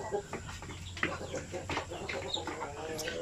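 Basilan chickens on a farm cluck and murmur close by, a busy overlapping mix of clucks and short calls with a faint wing flutter, steady throughout.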